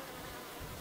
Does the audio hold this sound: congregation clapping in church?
no